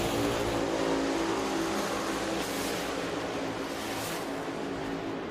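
Professional drag racing cars at Sonoma blast down the track, a loud sustained roar of high-revving engines that fades slightly as they pull away, with no voices.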